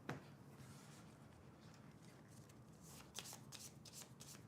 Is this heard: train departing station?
no